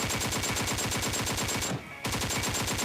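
Rapid automatic hip-fire gunshots from PUBG Mobile, a dense steady burst that breaks off briefly just before the two-second mark and then resumes at the same fast rhythm, loud and close with no talk.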